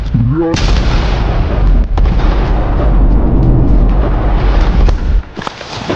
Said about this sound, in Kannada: ಫುಲ್ ರಿಯಾಕ್ಟ್ ಆಗಿ ದೊಡ್ಡ ಬಾಂಬ್ ಬ್ಲಾಸ್ಟ್ ಆಗೋಯ್ತು.